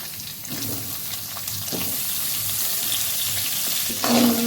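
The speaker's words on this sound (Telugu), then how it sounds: "ఇప్పుడు నాలుగు మీడియం సైజు ఉల్లి ఉల్లిగడ్డలు వేస్తున్నాను" Medium onions sizzle steadily in hot oil in a pan as the base for a fish curry gravy, with a close, continuous frying hiss and occasional stirring scrapes.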